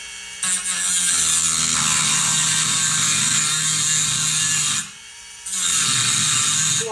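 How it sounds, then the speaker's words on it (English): A cutting blade cuts a relief beside the reed of an antique jaw harp, giving a loud, steady mechanical whine up close. A short pause splits it into two long bursts. "I'm going to cut a relief next to the reed, right next to the side of it."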